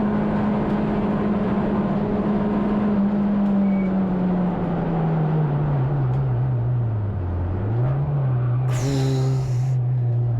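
Touring race car in a CSCC Tin Tops race at Thruxton, its engine a loud continuous onboard drone that sags in pitch, then climbs again as it pulls out of a corner.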